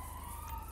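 A police car siren wails in the video game GTA 5, a steady electronic tone with a low pulsing throb, loud and alone for a brief moment.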